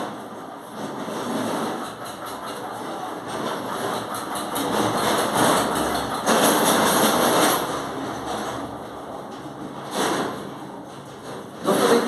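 A tractor rumbles past outside, its engine noise swelling and fading as it goes by at moderate distance, steady broadband drone with a few louder surges near the end.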